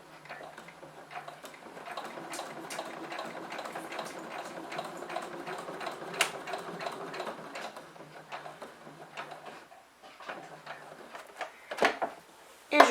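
A home sewing machine stitches a fabric pouch in quick, light ticking bursts, pausing while the needle is planted and the work is turned, then running again; a quiet voice speaks over parts of it.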